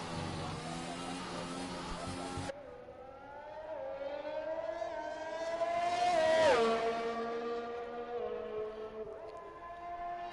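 Formula 3 race cars at full speed in the F1 2021 video game at the Azerbaijan Grand Prix, with high whining engine tones that rise and sweep, shift abruptly early on, and swell as a car passes close midway.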